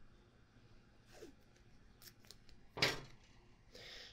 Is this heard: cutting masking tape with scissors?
yes